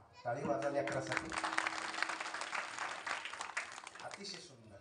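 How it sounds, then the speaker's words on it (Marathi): Applause for a child performer at a devotional singing gathering, a dense wash of many hands clapping that swells in and runs steadily for several seconds, with a sustained tone and voices mixed underneath. "टाळी वाजा लेकरासाठी"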